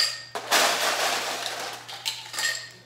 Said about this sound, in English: I'm gonna get some more ice